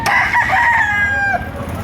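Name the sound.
rooster crowing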